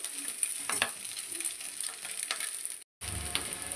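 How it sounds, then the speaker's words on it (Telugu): Blood fry curry sizzling and frying in a pan, a steady close hiss with a few scraping stirs, broken by a brief moment of silence near the end before the sizzle resumes. "కాసేపు ఫ్రై అవనిద్దాం, ఓకేనా."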